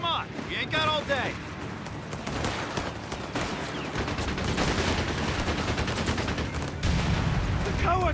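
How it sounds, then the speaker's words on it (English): Dense battlefield gunfire from enemy soldiers in Company of Heroes 3's Italian campaign, a continuous loud crackle of rifle and machine-gun fire with bursts throughout, mixed with wind-like rumble and distant battle noise. "The cowards are shooting at us!"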